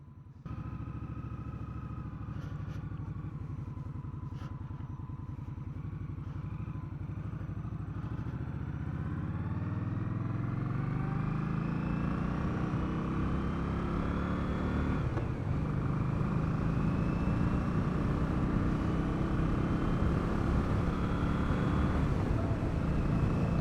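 A 2020 Indian Scout Bobber 60 motorcycle ridden on the road, its engine note rising steadily as it accelerates and holding a loud, continuous drone with wind rush for over twenty seconds, no talking.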